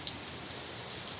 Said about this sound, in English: Rain starts, rain is flowing, non stopping, and it's unstoppable.